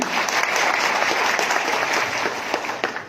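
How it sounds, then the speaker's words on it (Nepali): An audience in a hall gives loud, sustained applause, a dense and even wash of clapping that lasts from start to finish with no voices on top. "एकदमै जोरदार ताली उहाँहरूलाई दिउँ"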